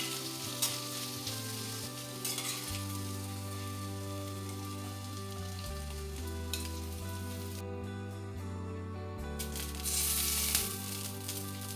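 Paneer pieces roast in ghee in a kadai with a continuous, rain-like frying sizzle that holds steady for several seconds, close and fairly soft, with a background hum and no talking.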